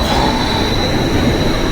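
A roller coaster train at the Särkänniemi amusement park rushes past, a loud, continuous roar with a high wheel squeal running through it, close by and without any talking.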